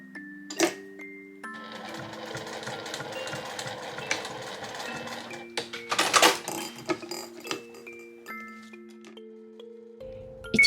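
Sewing machine running long stitched seams around a zippered insulated cooler bag made from fabric scraps, a steady mechanical whirr that starts and stops several times with short pauses and clicks between runs, no talk.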